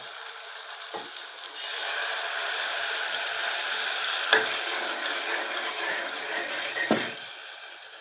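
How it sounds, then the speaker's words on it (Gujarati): Water poured into a pan of sautéed ingredients while cooking Maggi noodles, a steady close hiss and sizzle lasting several seconds, with a few light clanks of utensils. "હવે નાખી દઈએ થોડુંક પાણી."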